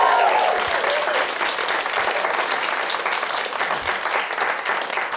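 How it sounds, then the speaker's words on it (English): A stand-up comedy audience claps for the MC Jess Perkins: a loud, sustained burst of dense applause that slowly thins, with a few scattered voices underneath. "Can we get a big round of applause for your MC Jess Perkins?"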